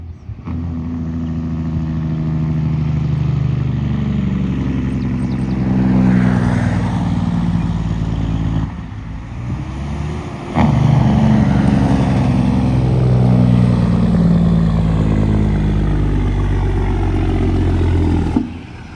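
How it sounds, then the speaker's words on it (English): A new farm tractor arriving on a farm, its engine running steadily with a deep, low rumble that swells and shifts as it nears, loud and continuous with no talk. "let's wait on the new tractor any minute"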